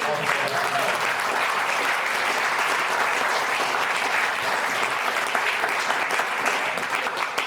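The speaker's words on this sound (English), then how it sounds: "A big round of applause" A live audience at a politics panel held at a white house breaks into a full round of applause, a thick, steady roar of many clapping hands that stays loud and even from start to finish.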